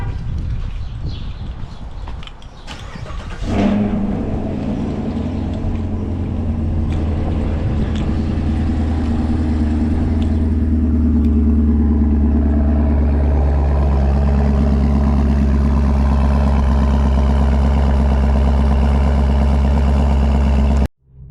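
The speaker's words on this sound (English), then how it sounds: "you would ever get tired of hearing that cold start each and every single day" A Chevrolet Camaro SS V8 cold-starts with a sharp cranking catch, flares loudly, then settles into a deep, steady, rumbling high idle that holds for many seconds.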